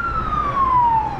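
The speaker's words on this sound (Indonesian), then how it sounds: "Ambulance." An ambulance siren passes near a roadside motorcycle shop in Matunggang, Kudat: a loud, steady wail whose pitch slides gradually downward over traffic rumble, with no talking.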